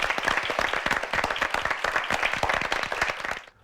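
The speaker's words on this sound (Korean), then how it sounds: "박수 부탁드립니다." An audience at a televised high school debate competition claps for a student's closing argument, with brisk, dense applause that stays strong before cutting off abruptly at the end.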